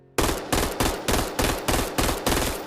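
A semi-automatic weapon fires in a VR aim-trainer game played on a Meta Quest 2 with a gunstock: seven loud, sharp shots spaced evenly about every third of a second, each cracking close up and trailing off, with no talk.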